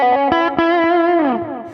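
Electric guitar lead on the bridge pickup with a brighter, poppier Jam Up Pro tone and effects, a few quick picked notes followed by a sustained bend that slides downward.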